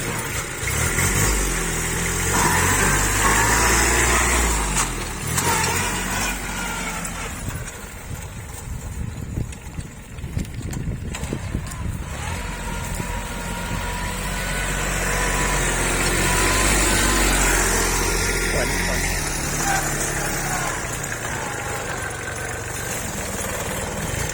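A tractor engine runs steadily close by, loud and continuous with a rough low rumble that swells and eases slightly throughout.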